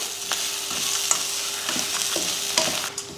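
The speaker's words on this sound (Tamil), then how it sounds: "இதையும் சேர்த்து வறுத்துருவோம்" Grated coconut and country chicken fry in a pan for naatu kozhi kulambu, giving a steady close sizzle broken by scraping stirs and a few sharper clinks of a spatula against the pan.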